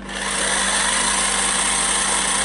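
Electric motor of a vintage 1986 Nikko Ferrari Testarossa toy car spins up to a loud, steady high-pitched whine that holds evenly, close by, with no talking.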